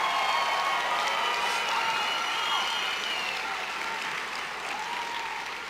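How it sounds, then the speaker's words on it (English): A large audience claps steadily and loudly through a medical school commencement ceremony in a big hall, with scattered cheers and whoops rising over the sustained applause. "can we give one more rousing applause for our graduates, our faculty, and our academic leadership?"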